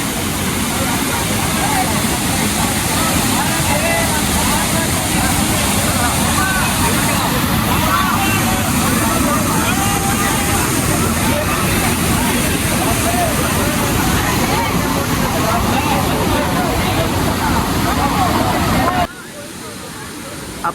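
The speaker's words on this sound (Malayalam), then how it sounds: "അപ്പോൾ നമ്മളിതാ വെള്ളച്ചാട്ടത്തിൻ്റെ മാക്സിമം ലോങ് ഷോട്ടാണ് ഇപ്പോൾ നമ്മൾ ചെയ്തുകൊണ്ടിരിക്കുന്നത് കേട്ടോ." Kanthanpara waterfall in Wayanad, Kerala, roars as a loud, constant rush of falling water that fills the whole stretch before dropping away abruptly near the end.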